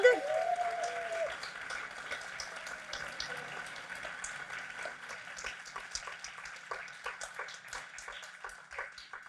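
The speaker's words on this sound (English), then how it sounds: "Another round of applause for Tug." Faint, scattered clapping from a storytelling event audience lingers quietly at a distance, with sparse individual claps continuing at a low level after a round of applause.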